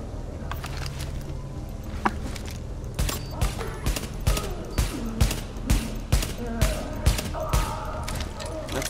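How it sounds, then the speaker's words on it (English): Gunfire in the shooter game Tom Clancy's The Division: scattered shots, then a steady run of sharp single rounds at even intervals, fairly loud, with background game ambience. "That's like way more shots than it should have."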